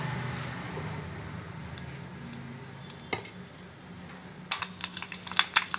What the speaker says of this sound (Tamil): எண்ணெய் சூடாயிடுச்சு. கொஞ்சம் வெந்தயம், கொஞ்சம் கடுகு போட்டுக்கோங்க.